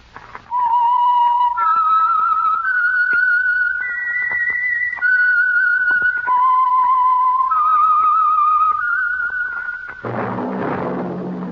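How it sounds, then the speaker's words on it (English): A clear, loud whistled melody with sustained, gliding notes, the signature whistle opening a 1949 radio mystery program, ending with a brief burst of noisy sound. "that whistle is your signal"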